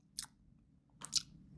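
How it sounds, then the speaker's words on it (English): Someone chews MRE Menu 24 southwest beef with black beans, two soft wet crunchy bites close to the mouth, quiet between them. "Beef's pretty chewy, like a chewy stew meat."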